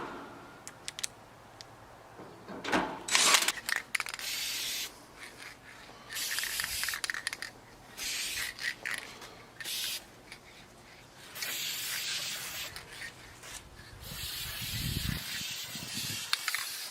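Short bursts of a Rust-oleum spray can hiss intermittently, fairly close and moderate in volume, as paint goes onto an aged air conditioner outdoors, with quiet pauses between passes.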